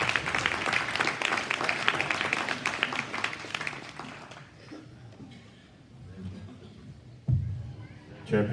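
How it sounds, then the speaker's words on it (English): Applause from the crowd at a county cattle show after a Charolais steer is named grand champion, a burst of clapping that fades after about four seconds into quieter murmuring and a voice. "Let's give Ellie a nice round of applause."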